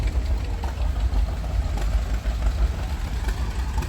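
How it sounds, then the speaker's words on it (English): A supercharged LSA V8 in a 1949 Lincoln Cosmopolitan idles at a car show, a loud, steady low rumble throughout with no speech. "49 Lincoln Cosmopolitan with a blown LSA"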